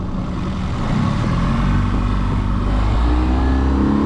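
An Alumiweld jet boat's Vmax outboard engine with the choke out fires up and runs, giving a loud, steady, close roar that rises slightly in pitch as it revs, with no voices.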